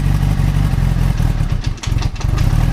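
A small engine runs on choke, rough and loud, with a steady uneven clatter that stays close throughout, with no talk.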